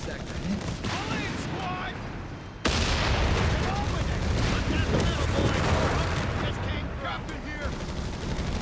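Riflemen fire their guns in the real-time strategy game Company of Heroes 3 during a 1v1 tournament match, a steady crackle of rifle and machine-gun fire with battle noise under a commentator's talk.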